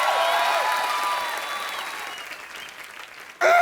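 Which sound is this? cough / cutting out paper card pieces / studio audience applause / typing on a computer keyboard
studio audience applause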